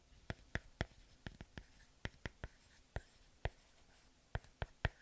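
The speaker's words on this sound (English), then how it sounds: "it feels just like writing on paper" Quiet, sharp tapping and scratching strokes of an Apple Pencil on a paper-textured iPad screen, irregular and close, with brief pauses between marks.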